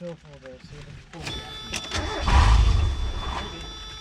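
A neglected $100 Mazda Miata, left sitting under a tarp, cranks and catches, then its engine surges roughly and starts to falter. Someone speaks over the first moments.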